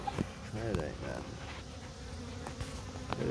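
Honeybees buzz in a hive box of a combined colony, a steady close hum with occasional louder passes of individual bees near the box.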